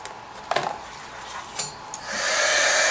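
A heat tool melting embossing powder on a card switches on after a few light clicks and handling taps, then blows with a steady, close, airy whoosh.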